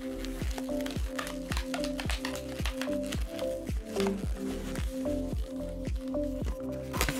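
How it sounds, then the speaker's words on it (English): A latex balloon nozzle is twisted and wrapped around a pinch twist, giving a rapid series of rubbery squeaks and squishes in a steady rhythm, close and fairly loud. "All you do is pull the nozzle and wrap it around the pinch twist."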